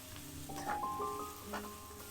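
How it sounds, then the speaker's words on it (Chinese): Thinly sliced beef tossed over high heat in a wok with oil, chili and garlic, a soft continuous sizzle with light stirring scrapes and faint clinks, no voices. "再放入牛肉，大火接着翻炒"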